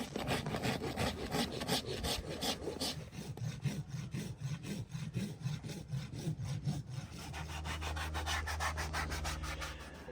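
Farrier trimming a horse's hoof, a close steady rasping and scraping in repeated strokes, with a low hum joining in toward the end.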